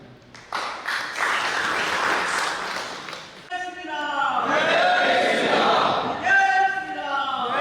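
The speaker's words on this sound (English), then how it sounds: "The largest round of applause for him." An audience at a birthday celebration event in Sringeri applauds and cheers, with a crowd clapping steadily and swelling in volume, mixed with voices.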